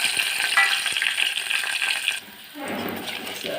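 Garlic cloves tempering in hot oil for spinach dal, starting as a bright hissing sizzle that breaks off and returns as a softer, lower bubbling fry.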